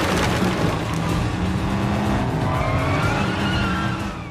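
Fast car chase in the video game First Light: a steady roar of racing engines with squealing, skidding tires, loud and continuous throughout, rising tonal whine in the second half.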